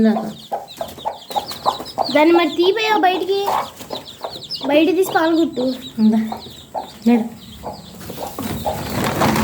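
Hens cluck and chatter in bursts close by, while people talk over and between the clucking.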